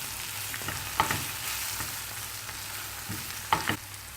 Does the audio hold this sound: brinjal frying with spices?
yes